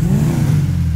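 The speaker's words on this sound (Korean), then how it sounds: "제가 엔진 소리 한번 들어볼게요." The V8 engine of a Vapid Bullet supercar in a video game revs hard, a loud, close, continuous throaty roar that rises slightly in pitch and then eases back, with no talking over it.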